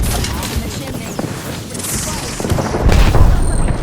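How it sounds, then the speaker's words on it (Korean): Grenade explosion in the video game Apex Legends, a loud booming burst with crashing debris that swells toward the end amid ongoing gunfire and game noise, with players talking nearby. "수류탄."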